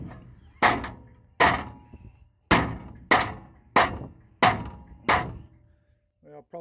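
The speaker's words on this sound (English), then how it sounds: "I've got to use the hammer to convince it." Sheet metal on a school bus roof, raised during a skoolie conversion, is struck with a hammer: seven loud, sharp metallic blows at a steady, unhurried pace, each ringing briefly before the next, with no talk.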